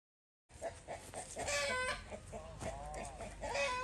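Chickens kept with peacocks in a backyard in the UK on a summer evening. Close, repeated clucking and short calls begin after a brief silence and continue in an uneven, chattering rhythm.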